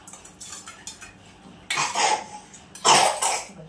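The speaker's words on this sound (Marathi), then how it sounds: "हा बघा खोकला" A woman coughs twice, close and sharp, during a kitchen scene where a sherbet drink is being made, with light clinks of a spoon and glass before the coughs.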